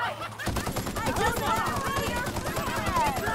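Rapid automatic gunfire from a weapon in the video game The Outer Worlds, Spacer's Choice Edition, Murder on Eridanos DLC, a dense burst of shots lasting a few seconds, loud and continuous with a voice over it.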